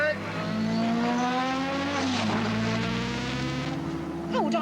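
A McLaren Formula One race car screams past at high revs, loud and close, its engine note rising and then sliding down in pitch as it passes, with a brief squeal near the end.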